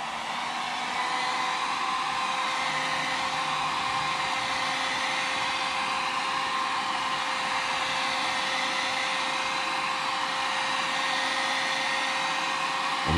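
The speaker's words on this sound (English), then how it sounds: "I hit it with the dryer." A hair dryer blows steadily to dry fresh paint on an Arrma Infraction V1 RC car body, a loud, even whooshing drone that runs without a break.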